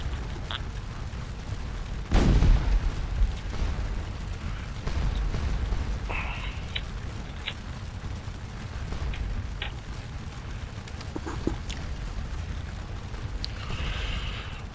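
Musket volleys and artillery fire from the Napoleonic battle game Scourge of War Waterloo, set at Wavre on the River Dyle, with one loud booming blast early on, then scattered sharper shots and crackles over a steady low battlefield rumble.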